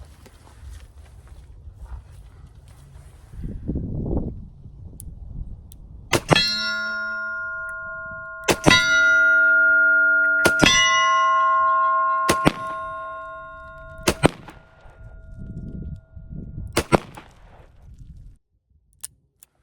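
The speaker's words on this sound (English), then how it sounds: "we'll just shoot 6 shots on the target, double action" A Smith & Wesson 629 .44 Magnum revolver fires six double-action shots at a target, each a loud, sharp crack with a ringing tail, spaced irregularly a second or two apart, with quiet movement before and after.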